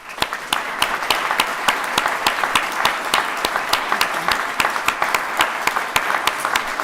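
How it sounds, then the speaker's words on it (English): Platform party and guests applaud graduates at a Royal College of Surgeons of Edinburgh diploma ceremony: sustained, even clapping from a crowd, with a few sharp, regularly spaced claps standing out close by. "I would just like to ask those on the platform and all the guests to applaud you on your success"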